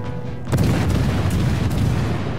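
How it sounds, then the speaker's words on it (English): A torpedo striking a ship in World of Warships, one sudden heavy boom that rises abruptly and then rumbles on with sustained low-end debris noise. "Yep, we did get a torpedo hit, which is lovely."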